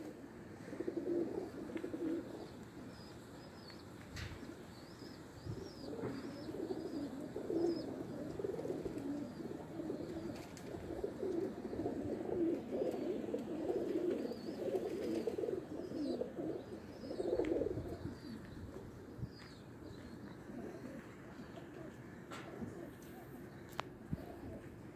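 Young pigeons cooing in Tabuk, Saudi Arabia, a steady low warbling chorus of soft coos running continuously and fairly close, with faint higher chirps above and a few brief clicks.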